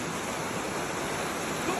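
River water rushes steadily around someone swimming in a cold stream, a dense, continuous broadband wash with no break.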